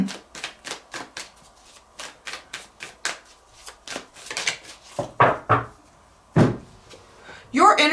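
Tarot cards being shuffled by hand: a run of quick, crisp riffling bursts in an uneven rhythm, close and fairly quiet, with a few louder slaps and a sharper rustle at the end.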